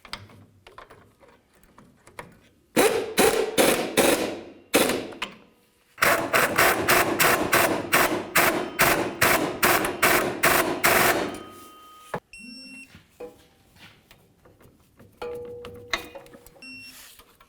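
Ratchet wrench tightening the rear shock nuts on a 1999–2007 Ford F-250: loud, close bursts of rapid clicking in several strokes with short pauses between them, followed by quieter metallic handling.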